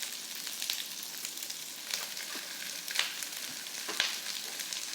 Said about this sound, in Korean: 한 번만 기름에 둘러주시고 오징어를 바로 넣으시면 되겠습니다.